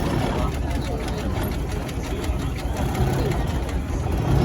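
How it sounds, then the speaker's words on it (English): A Fowler steam road locomotive runs at a steam fair, giving a steady low rumble and chuff close by, with outdoor background noise and possible voices mixed in. "this is another Fowler, and this is a road locomotive"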